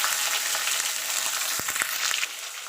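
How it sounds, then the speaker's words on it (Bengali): Fish heads frying in a pan for a spinach stalk chorchori, a loud continuous hiss and crackle of hot oil with a few low thumps of stirring. "হলুদ গুঁড়ো দিয়ে এটাকে আমি ভালো করে ভেজে নেব"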